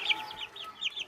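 Farm turkeys give off short, high clucking and gobbling calls in quick scattered bursts, faint and brief with no voices.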